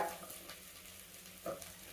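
Steady low sizzling of spices with coriander powder frying in a pan, with a brief louder crackle and stir near the end; no voices.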